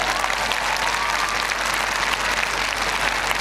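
A large audience at a Hindi-speaking gathering claps loudly and continuously, a dense, even wash of applause that holds steady without pauses and carries no voices over it.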